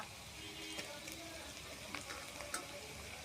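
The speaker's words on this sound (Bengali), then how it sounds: "লাল করে ভাজতে হবে বন্ধুরা পেঁয়াজগুলো" Onions fry in a pan, browning, with a steady, dense sizzle and crackle throughout and occasional stirring scrapes, close and fairly even in level.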